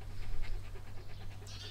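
Inside a camper van, a dog pants with quick, rhythmic breaths that are fairly faint and close by, over a low steady hum.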